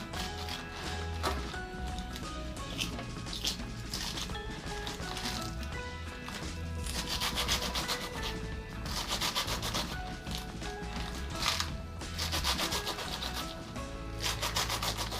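Leafy greens, spinach for a mbika and chicken stew, are cut by hand in a fast, continuous run of rough rubbing and scraping strokes, close and steady.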